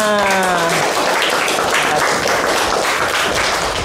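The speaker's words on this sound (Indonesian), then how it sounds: "Tepuk tangan semua untuk kita semua" Children and a teacher clapping hands together in a primary school religious lesson, loud and continuous, with a brief sung or spoken voice at the very start.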